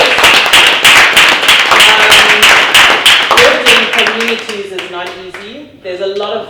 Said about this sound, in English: Kabe deserves a huge hand of applause